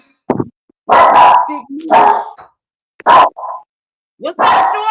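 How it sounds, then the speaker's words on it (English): Dogs bark loudly several times in short, separate bursts at close range, each bark standing out clearly against near silence, with a few small grunting sounds between. "I'm trying to sell these damn dogs."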